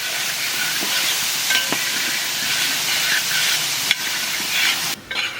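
Soya chunks frying in a pan give a continuous loud sizzle and hiss, broken by a few sharp scrapes and knocks near the end.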